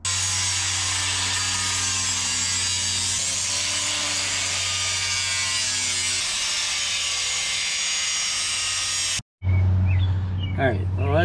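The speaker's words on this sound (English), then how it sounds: "Let's get the cutoff wheel." Cutoff wheel slicing through metal during a Saturn Vue frame and motor mount repair, a loud continuous high-pitched grinding whine that cuts out abruptly near the end, followed by a short rattling clatter.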